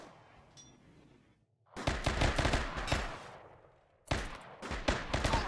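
Rapid gunfire bursts from a Rimworld space battle as crew shoot at an enemy destroyer's ship cable, two loud sustained volleys separated by a brief lull, with faint quieter sounds before the first burst.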